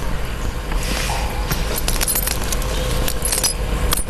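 Car keys jangling in a Tagalog-dubbed film scene, a run of bright metallic clinks and rattles over a constant background hiss, close and fairly loud, with no speech.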